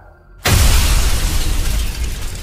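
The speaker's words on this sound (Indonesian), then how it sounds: "Kepala Braga meledak." A sudden, loud explosion bursts in after a quiet moment, followed by a sustained roaring rumble that fills the rest of the clip.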